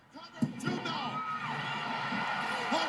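A WrestleMania 6 arena crowd at the Hogan versus Warrior match, a broad sustained roar of cheering and shouting with a sharp peak near the start and a swell again at the end.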